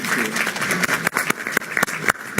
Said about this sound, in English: Can I just have a round of applause for a fantastic panel